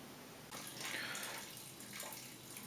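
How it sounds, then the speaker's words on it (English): Homebrew wort runoff draining from the mash, a steady close splashing rush of liquid with no talk. "there goes the runoff from the mash"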